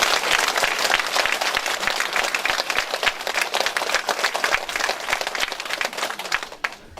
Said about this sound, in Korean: 큰 박수로 환영합니다.